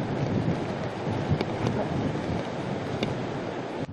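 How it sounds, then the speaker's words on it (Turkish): Strong wind and sea waves during a crew rescue at sea, a dense, continuous roar of gusting wind and surf with brief sharp bursts, loud and unbroken, with no talk. "Ne rüzgar ne de dalgalar bitmek bilmedi"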